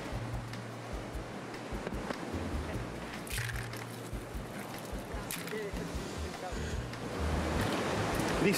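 Sea waves wash against the coast near Corniglia, a broad surging hiss that swells toward the end, with low wind rumble and faint voices in the background.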